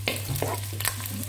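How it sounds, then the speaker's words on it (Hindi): Medium-sized onion sautéing in oil in a home kitchen, a steady close sizzle with a low constant hum beneath and a few soft stirring scrapes. "उस तेल में मैंने एक मीडियम साइज की प्याज डाल के मैं उसको सोते करूँगी"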